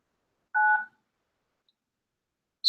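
A telephone keypad sounds a single clear dialing tone to start conference recording, a short beep alone in near silence, with the onset of another tone at the very end.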